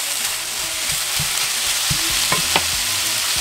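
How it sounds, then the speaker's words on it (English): Ground beef cooks in a pan with onion and tomato for flautas, a loud close sizzle with repeated spatula stirring scrapes and clacks against the pan, no talking. "we're going to place our meat in with our onion and tomato."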